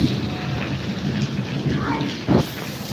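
Steady, dense rain hissing across the whole stretch, with a brief louder thump near the end.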